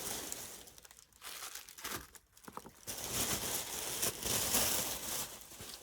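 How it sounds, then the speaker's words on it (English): A package is unboxed, with close, irregular crinkling and rustling of packaging material that grows louder and busier toward the end, and no talk. "let's just take this out and I'll unbox it here"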